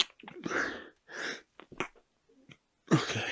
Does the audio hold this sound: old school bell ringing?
no